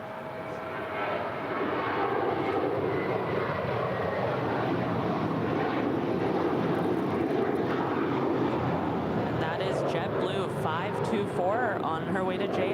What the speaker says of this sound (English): On her way to JFK. It's a 5-year-old A321.